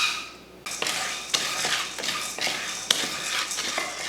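Roasted chickpeas (pottukadalai) dry-roasted in a pan while being stirred, with repeated scraping and rattling of a spoon against metal at an irregular pace, close and fairly loud, with no talking.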